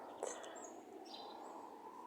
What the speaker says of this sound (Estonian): need linnud kindlasti laulu samamoodi nagu kui 80 aastat tagasi